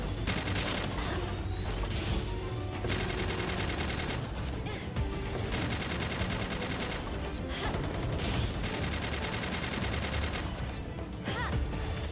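Gunfire from the video game Palworld crackles almost without a break, with dense rapid bursts and volleys coming loud and close, separated by short lulls.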